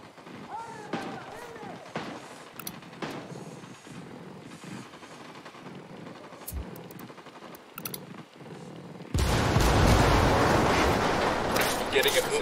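Gunfire crackles in a Ghost Recon Wildlands firefight in the Eastern Precinct, with scattered sharp shots and impacts under radio-style squad chatter, then a dense, loud burst of sustained fire fills the final few seconds.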